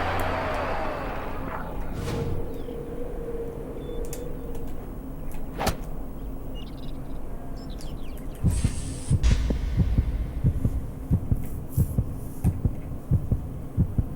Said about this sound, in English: why would it do the heartbeat?